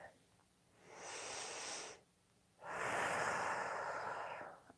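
Two slow, deep breaths, a long inhale followed by a fuller exhale, close and clear against a quiet background, with no talking, set amid a calm guided meditation.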